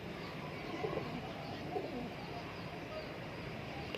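Pigeons offered for sale at the Friday market in Cairo coo softly and continuously, low and muffled, over a steady crowd murmur with faint background voices.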